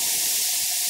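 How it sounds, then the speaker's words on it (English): Steady broadband hiss of steam venting from a pressure canner while green beans are canned, continuous and fairly loud with no talk over it. "The back canner's starting to come off the steam."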